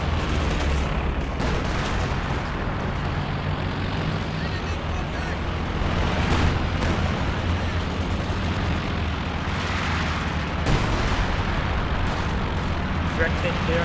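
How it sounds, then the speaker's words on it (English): Airstrike explosions in Company of Heroes 2, heavy rumbling booms under continuous dense battle noise, with a voice commentating over them throughout. "We got the OKW airstrike coming in."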